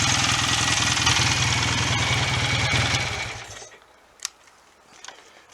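A BSA A65 motorcycle engine, freshly fitted with new spark plugs and warm from running, idles loudly and close with a steady rapid beat, then cuts out after a few seconds, leaving near silence with a couple of sharp clicks.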